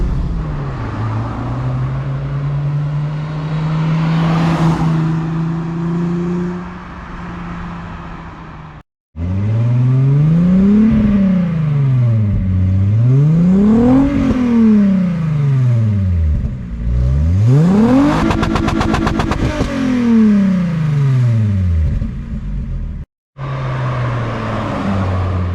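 Modified Volkswagen Golf MK2 making repeated drive-bys, its engine revving hard and swelling loud as it passes, then fading, several passes in a row with brief cuts between them.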